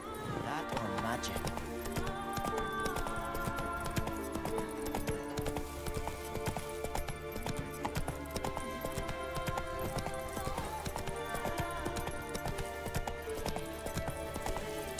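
Roach the horse galloping in The Witcher 3, a steady drumming clip-clop of hooves running under game music and spoken dialogue throughout.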